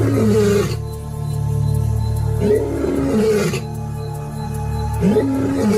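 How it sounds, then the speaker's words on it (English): Male lions of a superpride roar at night, deep repeated roaring bouts rising and falling in loud, close succession, with a brief lull between calls. "the superpride males declare their ownership of the superpride with an unmistakable sound"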